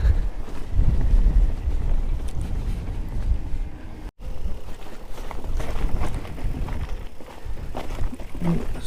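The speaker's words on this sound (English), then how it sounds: "there's quite a cold wind here" Cold wind blows by Ladybower reservoir, buffeting the microphone as a continuous loud rush with a single brief dropout midway. A voice is faintly present under the wind noise.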